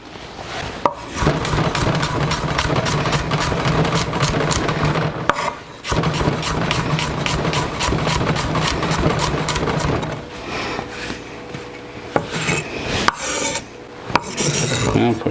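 Knife chopping two big garlic cloves on a board for chicken stir-fry, a fast, even train of close, crisp taps repeating for many seconds, pausing briefly and resuming, with no talking.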